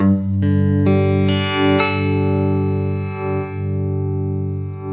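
Guitar through a Chase Bliss Wombtone MKII phaser set to a slow, smooth sweep: a few picked notes stack into a sustained chord that rings out and swirls gently as the phase moves, alone with no voices.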